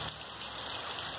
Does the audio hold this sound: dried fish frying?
no